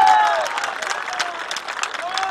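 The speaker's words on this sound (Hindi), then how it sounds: "तालियां बजाकर लॉकेट जी का स्वागत करें" A political rally crowd claps to welcome a woman MP, uneven rippling applause that swells and fades with a whistle-like tone and voices mixed in.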